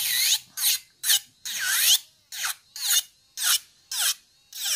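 Repeated short rasping bursts of a small rechargeable electric nail drill filing off dip powder on a fingernail, about ten strokes in quick rhythm, close and fairly loud.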